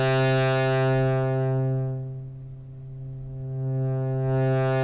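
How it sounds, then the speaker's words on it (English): On a Korg synthesizer, a sustained rich tone passes through a low-pass filter sweep that dulls it to a muffled hum, then opens back up to bright, continuous and alone. "When I turn this low pass filter, which lets the low frequencies through, it's going to sound something like this."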